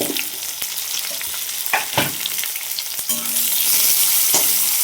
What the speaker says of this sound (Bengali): এখানে পেঁয়াজটা একটু আমি হালকা ভেজে নিলাম